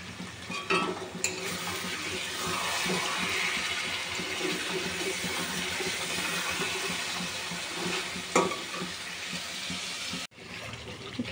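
Water hisses and sizzles as it hits a hot pan of chicken curry, a steady bubbling spatter with a few sharp clinks, fairly quiet and with no talk.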